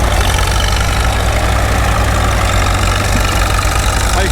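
A Caterpillar D4 bulldozer in military paint with a cable blade and rear Heister winch runs steadily nearby, its engine a loud, constant low rumble and chug with no talk over it.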